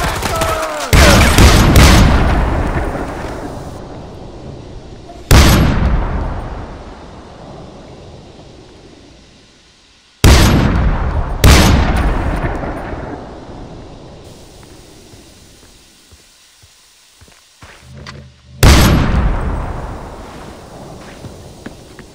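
Far Cry 4 gunfire cracks out in heavy bursts, each loud blast trailing into a long echoing decay, repeated several times across the stretch with quieter gaps between.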